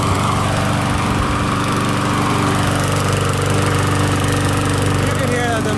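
A Briggs and Stratton Quantum lawn mower engine running loud and close, a constant rough, chugging drone with a faint rattle and no pauses.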